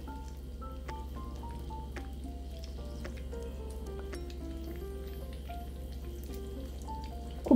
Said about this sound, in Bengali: খুব ভালোভাবে ফ্রাই করা হয়ে গেছে